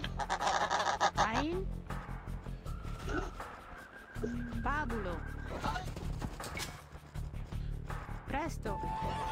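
Turkeys in the video game Age of Empires II gobble and honk in short, repeated bursts mixed with game effects and a busy soundscape, with someone talking over them.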